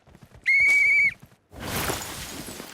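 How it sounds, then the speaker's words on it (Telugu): A single sharp, loud whistle in the PUBG Mobile game, a steady tone lasting about half a second, followed by a burst of rushing noise. "విజిల్"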